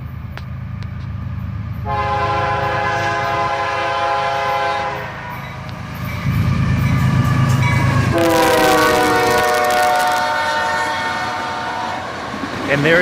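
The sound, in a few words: CSX autorack freight train with two locomotives passing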